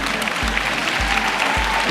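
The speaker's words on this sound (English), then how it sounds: "somebody ought to clap on that" An audience bursts into continuous applause during a speech, a dense, even wash of clapping that fills the whole moment without pause.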